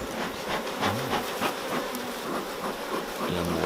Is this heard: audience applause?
no